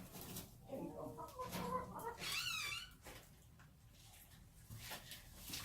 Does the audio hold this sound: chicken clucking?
yes